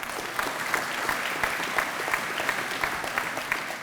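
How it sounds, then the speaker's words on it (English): A school audience applauds the basketball team captain with a dense, even roar of clapping that holds steady and fairly loud without a break. "Generous round of applause."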